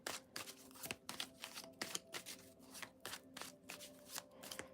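A deck of tarot cards being shuffled by hand, with quiet, close riffling and flicking bursts coming in an uneven rhythm, soft and alone without talk.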